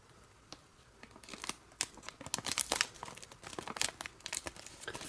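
Paper crinkles and rustles close up as it is creased and folded into an origami cross bookmark, with irregular crisp crackles that build in density over several seconds.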